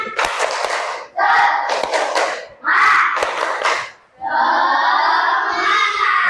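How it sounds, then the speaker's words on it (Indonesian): Schoolchildren doing tepuk semangat, a rhythmic spirit clap in class, sharp patterned hand claps punctuated by loud chanted shouts in several bursts, all close and lively. "marilah kita tepuk semangat dulu"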